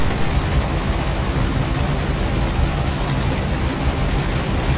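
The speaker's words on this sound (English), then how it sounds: "There's like way more rain here." Heavy rain in the X-Plane 12 flight simulator, a dense, steady roar of downpour hissing evenly across the whole stretch, loud and unbroken with no voices.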